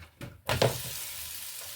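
A thin masala rotti (talipattu) is placed on a hot pan, giving a sudden loud sizzle that quickly settles into a steady, quieter hiss.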